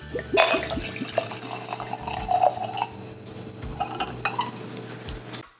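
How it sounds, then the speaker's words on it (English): Liquid poured into a glass, with gurgling splashes and a few clinks of glassware, close by and uninterrupted by talk. "So I am going to pour up some."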